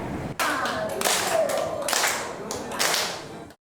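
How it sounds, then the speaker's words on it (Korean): Elderly people in a senior-centre exercise class clap along to an instructor's count, several bursts of rhythmic group clapping separated by short pauses, fairly close and moderately loud, with a voice audible between claps. "구령에 맞춰 박수도 칩니다"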